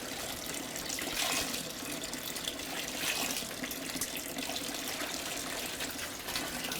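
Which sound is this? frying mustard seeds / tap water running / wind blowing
tap water running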